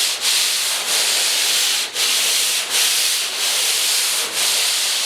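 Hand sanding of drywall joint compound during a basement bedroom renovation, a steady close abrasive rubbing in long even strokes with brief pauses between passes, no talking.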